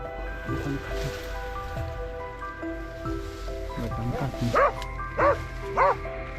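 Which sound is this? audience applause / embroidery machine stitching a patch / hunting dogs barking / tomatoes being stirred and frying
hunting dogs barking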